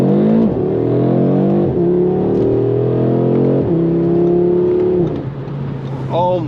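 Audi RS3 engine revving hard through several rising pulls, loud and close, with pauses between gear changes and excited voices speaking over it.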